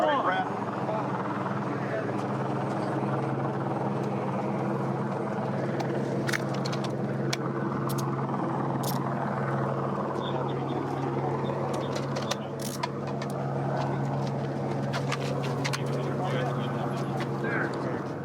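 A helicopter circles overhead during a police stop, its steady low rotor drone running continuously beneath officers' voices, with a few sharp sounds and a dog barking faintly in the background.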